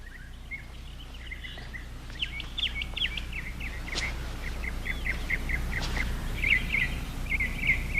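Small birds chirp and tweet repeatedly, bright and fairly near, against a steady low outdoor rumble with no talk.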